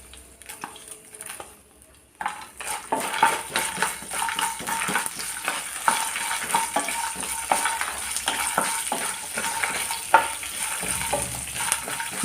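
Curry leaves with turmeric and asafoetida fry in hot oil for Tamil Nadu style lemon rice, a steady loud crackling sizzle that bursts in after a short quiet start, with scraping stirs and light utensil clinks throughout.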